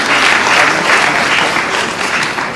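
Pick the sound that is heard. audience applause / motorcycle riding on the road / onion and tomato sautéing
audience applause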